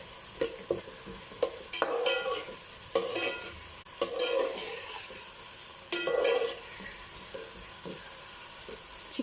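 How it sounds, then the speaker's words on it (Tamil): Sliced onions frying in oil in a pot for Chennai chicken biryani: a steady sizzle under repeated scraping stirs that land every second or two, close and moderately loud, with no talking. "நம்ம ஒரே சைஸில் அனியன்ஸ் கட் பண்ணி போடும்போது எல்லாம் ஈவனாக நல்லா கோல்டன் ப்ரௌனாக ஃப்ரை ஆகி வரும்"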